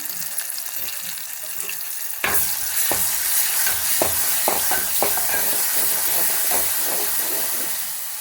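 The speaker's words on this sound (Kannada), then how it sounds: "ಬೆಳ್ಳುಳ್ಳಿ ಪೇಸ್ಟ್ ಹಾಕಿ ಸ್ವಲ್ಪ ಫ್ರೈ ಮಾಡ್ತಾಯಿದ್ದೀನಿ" Garlic paste frying in oil in a pan for an ennegai brinjal dish. A quieter sizzle suddenly jumps louder and hissier. Repeated spatula scrapes and taps then come in an uneven rhythm up close, with no talking.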